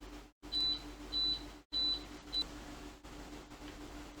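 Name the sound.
kitchen appliance beeping when dinner is done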